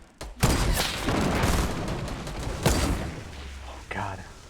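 Grenade blasts in Fortnite: Battle Royale come as several booming bursts over a couple of seconds, loud and close, with a player speaking over the action.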